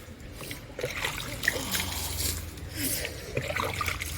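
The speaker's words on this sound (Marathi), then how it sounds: "चला पाणी घालूया पाणी घातलंच घालायलाच लागतंय झाडाला" Water trickles and splashes onto garden plants in winter, a soft, uneven patter and dribble close by that grows a little stronger partway through.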